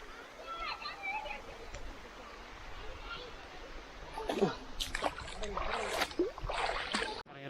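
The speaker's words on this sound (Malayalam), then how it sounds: "ഇവിടെ നിന്നുള്ള വെള്ളമാണ് താഴോട്ട് അങ്ങനെ ഉഷാറായിട്ട് വരുന്നത്" A mountain stream at Mamalakandam rushes downhill with a steady broadband wash of flowing water, continuous and close, and people talk over it.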